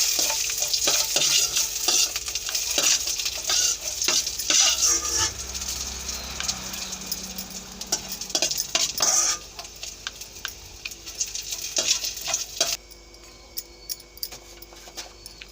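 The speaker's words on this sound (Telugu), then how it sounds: "కొద్దిగంత నెయ్యి వేసుకొని డ్రై ఫ్రూట్స్ ఏం చేసుకుందామండి. జీడిపప్పు, కిస్మిస్, కూడా వేసేస్తానండి. ఇవి కొంచెం కలర్ వచ్చే వరకు వేయించుకొని" Cashews and raisins fry in a little ghee, crackling steadily close by while a spoon scrapes and taps against the pan. The sizzle fades somewhat toward the end, and no one speaks.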